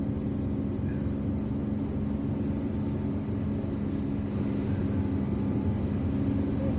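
Steady low engine rumble and road noise from a car driving through the streets of Algiers between Telemly, Al Mouradia and Bir Mourad Rais, continuous and even throughout with no talking.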